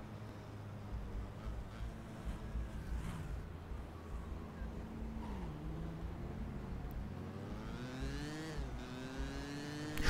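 A car drives in the Driver Parallel Lines video game, its engine whirring under shifting revs that climb near the end, with no talking.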